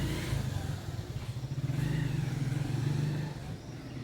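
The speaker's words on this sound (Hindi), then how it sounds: "ये बाइक वाला निकल जाए" A motorcycle passes close by, its low buzzing engine drone holding steady for a few seconds and then fading away.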